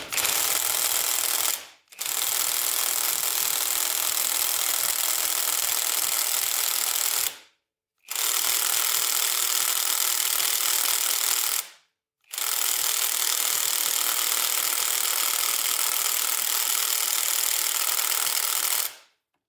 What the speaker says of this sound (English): See if this bolt will come off with the impact.